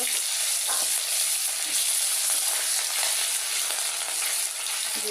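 Fish frying in a pan for a home breakfast, a steady close sizzle of hot oil that runs on evenly throughout, with no talking.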